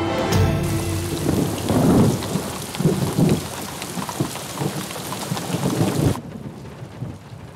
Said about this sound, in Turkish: Ne zaman dinleyecek bu yağmur?